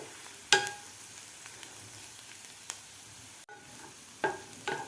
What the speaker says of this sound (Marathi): आपल्याला परत कांद्याबरोबर हे वाटण परतून घ्यायचं आहे एक मिनिटभर